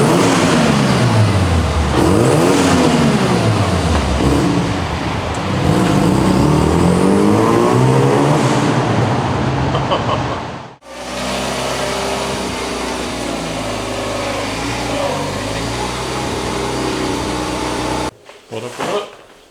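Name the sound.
Mazda FD RX-7 engine revving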